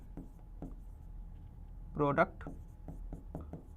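Marker or chalk strokes on a board during an algebra lesson in a quiet classroom: several faint, short scratches spaced through the clip, with one brief louder vocal sound in the middle.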